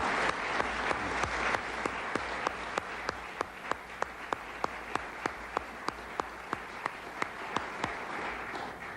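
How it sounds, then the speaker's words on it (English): An audience applauds steadily at a public event on drug and violence prevention, a dense wash of clapping that continues throughout with distinct sharp claps cutting through, moderately near and with no talk over it. "just join me with some applause"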